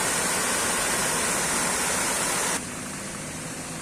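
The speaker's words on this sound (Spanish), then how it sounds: "aquí está el río Cañalejo" The Cañalejo river flowing near the Guarruz ravine, a loud, steady rushing roar of water that drops slightly in level partway through, with no voices.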